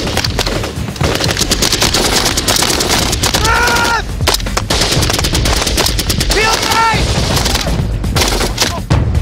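Loud, continuous automatic rifle fire and overlapping shots during an SAS patrol break-contact drill, with bursts running almost without pause; shouted voices rise briefly twice amid the shooting.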